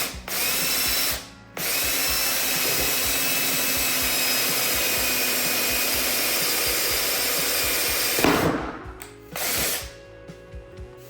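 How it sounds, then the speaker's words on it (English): A power drill with a standard bit whines loudly and steadily boring through flooring, stopping briefly early on, then runs again before a couple of short final bursts and a clunk. "This is just a standard drill bit."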